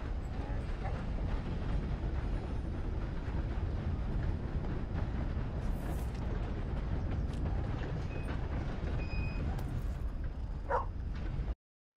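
A train in Red Dead Redemption 2 rumbles steadily throughout, a continuous low rolling roar with faint metallic clanks and squeals near the end, then a sudden cutoff.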